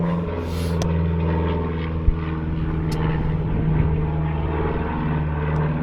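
A propeller airplane drones overhead, a steady, moderately loud engine hum that holds throughout, with a few faint clicks and a brief knock beneath it.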